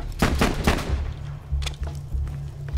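Rapid bursts of pistol fire from a drum-magazine pistol in the shooter game Borderlands 2, several quick loud shots in clusters over a low game rumble, no talking.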